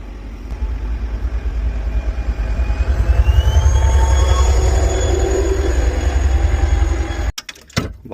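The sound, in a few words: train passing at railway crossing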